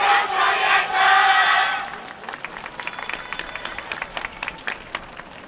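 Festival crowd at the YOSAKOI Soran Festival cheering loudly for a dance team, a roaring wall of shouts that drops away into scattered, sharp claps and whoops from across the venue.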